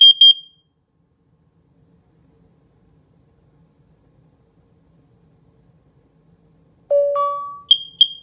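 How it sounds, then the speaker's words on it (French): A Nest Protect smoke and carbon monoxide alarm gives short, sharp electronic beeps at the start. After a long silence it plays a quick rising tone, then more bright beeps. "Test de monoxyde de carbone."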